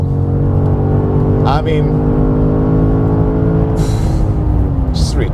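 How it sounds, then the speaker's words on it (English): A new BMW M5 accelerates hard on the Autobahn, its engine droning loud and steady from inside the cabin with rising gear pulls and a brief shift, while the driver talks over it. "let's start with some Autobahn driving"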